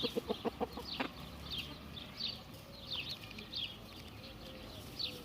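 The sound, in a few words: rooster clucking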